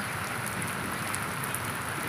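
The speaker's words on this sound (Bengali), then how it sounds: "দেখতে পাচ্ছি বেশি বেশি বৃষ্টি হচ্ছে" Steady monsoon rain falls in a constant, even hiss over a Sundarbans village, with no voices or other sounds breaking through.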